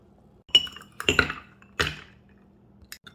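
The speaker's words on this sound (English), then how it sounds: "We can transfer it into a glass and we'll put some ice cubes." Ice cubes dropped into a glass of homemade rhubarb juice, three or four sharp clinks and knocks in quick succession, close up with a wet splash and no talking.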